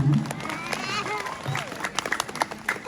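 Scattered clapping and crowd noise rise at a National Santri Day event at an Islamic boarding school, with someone talking over the brief applause.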